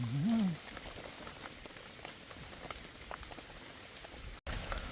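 Soft, steady rain patters down by a roadside where wild mushrooms are being picked, faint and even, with a short vocal sound at the start.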